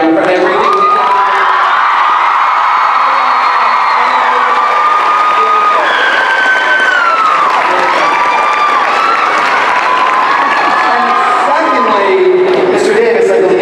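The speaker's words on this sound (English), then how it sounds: "give a collective round of applause to Dylan O'Brien for everything he's done" A convention-hall audience at a San Diego Comic-Con 2014 Teen Wolf panel cheers, whoops and applauds for actor Dylan O'Brien in a loud, sustained wave of crowd noise with high-pitched screams that runs through the whole stretch.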